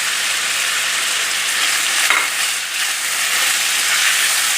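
Chopped carrot, capsicum, green chilli and cabbage stir-fried in a hot pan: a steady, close, loud sizzle with continuous frying hiss and faint stirring, no voices.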